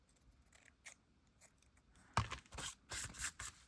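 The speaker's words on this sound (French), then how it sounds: "Je vais couper en deux." Scissors snip through tulle in a few close, crisp cuts during decorative lace work, coming as quick scraping bursts after a quiet stretch.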